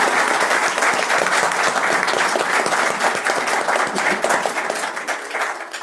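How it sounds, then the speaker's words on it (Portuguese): A gathered audience gives sustained, dense applause for professors after an academic talk on tax reform, loud and continuous for several seconds before tapering slightly. "uma salva de palmas aqui para os professores"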